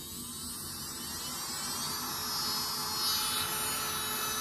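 A Makartt electric nail drill spins up at high speed, producing a steady high-pitched motor buzz that swells slightly louder midway, heard alone and close.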